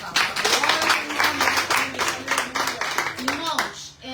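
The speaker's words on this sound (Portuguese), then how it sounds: "aplauda o Senhor pela sua palavra." A church congregation claps in a quick, uneven rhythm, sharp hand slaps massed together while voices carry on beneath and alongside the clapping.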